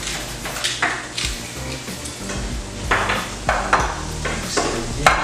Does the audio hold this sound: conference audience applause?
no